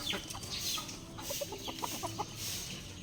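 Hens clucking in a backyard pen, soft repeated short clucks scattered through a steady low background rumble, fairly faint and continuous with no voices.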